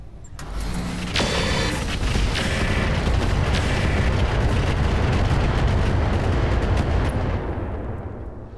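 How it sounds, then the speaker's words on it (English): Rocket barrage in the mech game Roguetech, a dense continuous roar of overlapping explosions and booms that rumbles loudly for several seconds before fading, with no voices. "Hey, you want to see what a rocket barrage looks like?"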